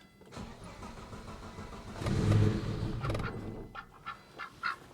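An old engine cranking over and catching after its fuel pump primes, a rough rising churn that settles into uneven chugging with a few sharp bursts near the end.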